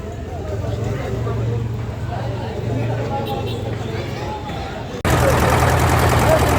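A trawler boat's engine drones steadily with a low hum under background chatter, then becomes louder and harsher near the end as the boat heads toward a guava garden from a floating market.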